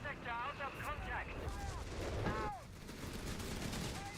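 Artillery barrage and scattered gunfire from the World War II strategy game Company of Heroes 3, rumbling and crackling steadily in the background beneath a caster's continuous excited commentary.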